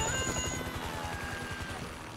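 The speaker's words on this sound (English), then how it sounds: "Can you hear that? Chopper! Incoming!" A helicopter in Grand Theft Auto 5 approaches with a rapid, rhythmic rotor thumping, moderately loud under other game sounds and tones.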